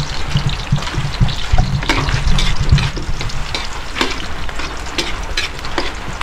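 Adobo sizzling and frying in a pan, a steady loud crackle with stirring and scraping clatter throughout, no talking.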